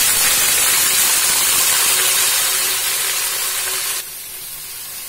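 Drumstick stems dropped into hot oil with nigella seeds and green chilies, a loud steady sizzle and hiss close up, easing slightly toward the end.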